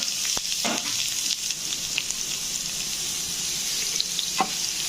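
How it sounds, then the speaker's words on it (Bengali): Grated beetroot hits a pan already holding fried garlic and curry leaves, giving a continuous moderate sizzle with a few clinks and stirring sounds, no talk. "তো এবারে গ্রেট করা বিটরুটগুলোকে দিয়ে দিলাম।"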